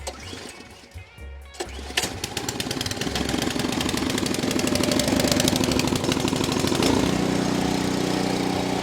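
A PowerSmart 22-inch two-stage snow blower engine is pull-started and settles into a loud, steady, rapid chugging run close by, after a few clunks and a rising crank.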